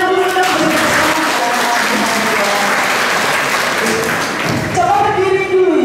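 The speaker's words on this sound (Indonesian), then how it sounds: "Kita tepuk tangan dulu dong." A school group on an educational visit to UGM university in Yogyakarta claps together: loud, sustained crowd applause with a few voices mixed in, and some talking rising through it near the end.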